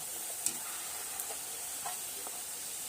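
Puris for pani puri fry in hot oil as they are flipped to the other side, giving a soft, steady hiss of bubbling oil with a few faint clicks and splashes.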